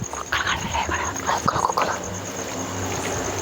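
Dogs in a village at night give off scattered yelps and barks amid a busy nighttime ambience, with a faint voice or two in the background.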